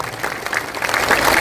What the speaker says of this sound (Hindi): ताली, जोर से ताली बजाइए।